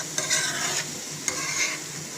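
Methi baingan stirred in a pan, two short bursts of scraping and sizzle close by with a quieter hiss between them and no voices.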